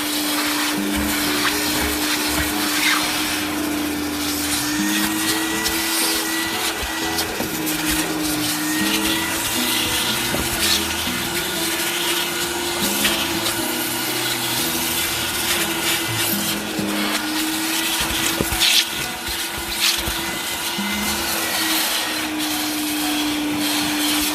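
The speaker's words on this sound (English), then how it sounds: "Vacuum it out" A vacuum cleaner runs steadily throughout while cleaning a dirty car interior, a continuous whining drone with a fixed pitch and shifting rubbing and scraping as the nozzle moves over surfaces, fairly close and with no talking.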